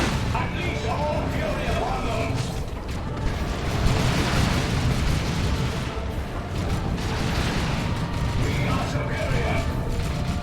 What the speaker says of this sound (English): Does activate the bomb there, obliterating the forces